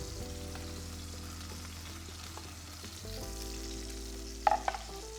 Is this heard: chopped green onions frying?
yes